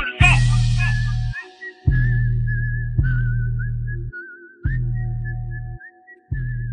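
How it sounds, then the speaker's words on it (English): A whistled melody from Kill Bill, part of a played song, rings out clearly over a pulsing low bass beat that repeats about every second and a quarter. "the whistle from Kill Bill?"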